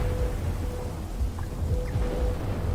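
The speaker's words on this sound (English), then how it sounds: "Another lightning flashes across the rainy night sky, closely followed by a loud thunderclap" Thunder rumbles low and steady under rain on a stormy night in a visual novel game, a continuous dense roar with faint tonal music hovering above.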